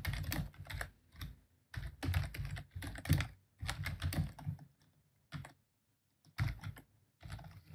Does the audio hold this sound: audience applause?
no